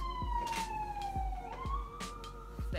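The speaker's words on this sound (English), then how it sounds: "the ambulance always flying by here" An ambulance siren passes by outside, a single wailing tone that dips and then climbs again at moderate distance, with dull low thumps recurring underneath.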